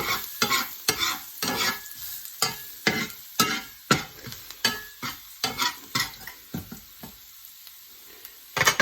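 Garlic fries in a pan while a utensil stirs it, giving a soft sizzle broken by a quick series of sharp scraping strokes that thin out toward the end.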